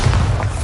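Bombarda blasting spell in Hogwarts Legacy, a single heavy, muffled thud-boom, loud and close, over in well under a second.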